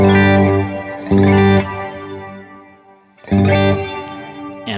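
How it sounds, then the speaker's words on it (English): A guitar runs through a modulated reverb pedal, with two strummed chords each ringing out into a lush, wavering wash that slowly decays, loud and close with no voices. "modulated reverbs can sound great or can sound cheesy"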